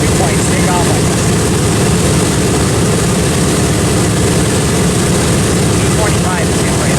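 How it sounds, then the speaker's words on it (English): World War II propeller planes, among them a B-25, roar loudly and continuously on takeoff, a dense heavy engine drone with people talking underneath. "the easy World War II planes take off like this."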